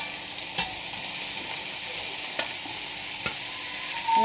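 Chopped onion and okra fry in a pan for ladies finger mezhukkupuratti, giving a steady, even sizzle with a few sharp spatula taps against the pan.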